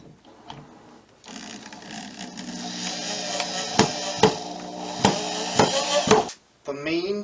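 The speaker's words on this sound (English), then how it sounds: "am about to screw it on using 1 1/4 inch pocket hole screws" Screws driven with a drill into pocket holes to fix a drawer rail on a wooden desk built from 2x6 boards: a steady whirring drill with several sharp knocking impacts, close by, then a short break.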